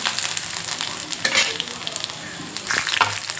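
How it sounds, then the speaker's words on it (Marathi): Cumin seeds and garlic sizzle in hot oil in a kadhai, a steady close frying hiss with brief louder crackling bursts and occasional stirring clinks, no voices. "गरम तेल हे बघा मंडळी मी टाकते जिरं"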